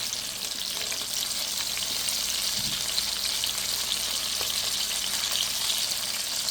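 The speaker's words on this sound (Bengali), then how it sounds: "মাছটা আস্তে আস্তে মচমচে করে ভাজবো।" Rupchanda pomfret fish frying slowly in oil until crisp, a steady close sizzle and crackle that holds evenly throughout without talk.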